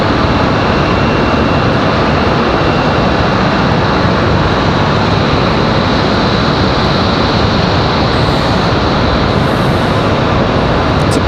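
A PSA CRJ 900LR jet arrives from Washington Reagan, giving a loud, steady jet roar with a high engine whine running throughout and no talk.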